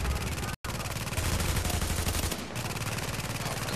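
Rapid automatic gunfire in The Division, dense and loud almost throughout, with a brief gap near the start and a short drop in intensity midway before firing resumes.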